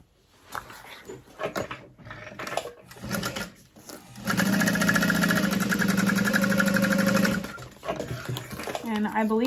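A sewing machine top stitching a bag runs in a steady, loud mechanical hum for a few seconds, after a stretch of talking and fabric handling, with a short voice at the end.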